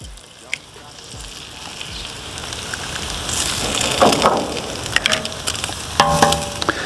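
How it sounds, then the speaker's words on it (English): Eggs frying in butter on a Napoleon stainless steel outdoor griddle, a loud, close, steady crackling sizzle that swells midway with scattered spatters and scrapes. "We're just going to do some fried eggs."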